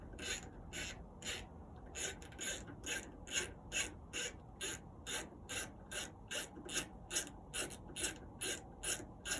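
A socket ratchet clicks in quick, regular bursts while turning an Allen head screw on the auger motor of a Camp Chef smoker, close by and steady throughout.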